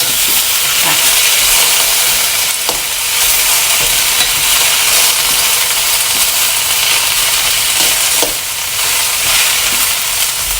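Carrots sizzle in a hot pan for stir-fried noodles, with a loud, continuous hiss of frying and occasional scrapes of stirring throughout.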